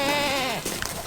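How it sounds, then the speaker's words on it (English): Goats in a herd bleating loudly, one long wavering cry falling in pitch followed by a fainter call, close by with no talk. "I hear goats yelling all over."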